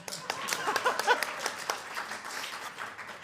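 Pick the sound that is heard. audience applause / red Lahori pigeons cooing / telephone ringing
audience applause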